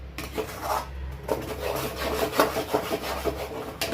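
Makkandi halwa stirred in a pan, a continuous rough rubbing and scraping of the spoon against the pan in quick repeated strokes, close and steady.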